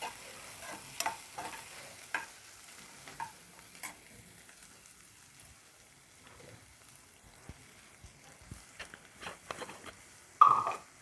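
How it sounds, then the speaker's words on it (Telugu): Onions, coriander, curry leaves and green chillies fry gently in a pan for idli upma: a soft, low sizzle broken by sparse spatula scrapes and taps, with a louder clatter near the end and no voices. "ఉల్లిపాయలు, కొత్తిమీర, కరివేపాకు, పచ్చిమిరపకాయలు ఇవి కాస్త బాగా వేగాలండి"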